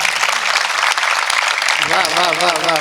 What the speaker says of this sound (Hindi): ताली बजाइए, मैंने अच्छी बात कही।